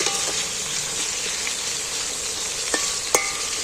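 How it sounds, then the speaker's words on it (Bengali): Potatoes frying in hot oil with a dense, even hiss close by, broken by a couple of sharp utensil clinks near the end as they are stirred. "নেড়ে চেড়ে বেশ ভালো করে ভেজে নেবে আলুটা"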